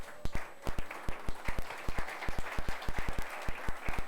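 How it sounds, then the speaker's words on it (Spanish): Scattered, distinct claps ring out in a church service, individual hand claps landing in an uneven, moderately quick rhythm rather than a dense ovation, close and fairly loud. "Denle un aplauso a Cristo."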